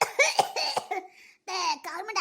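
A few harsh coughs in quick bursts, close up, mixed with short vocal sounds and a brief pause between fits.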